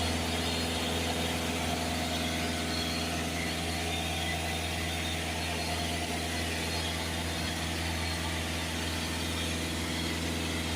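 A Ford Transit 2.2 diesel engine runs steadily during DPF cleaning, a continuous close idle drone with a low hum and whirring overtones that holds unchanged for the whole stretch, with no talk over it.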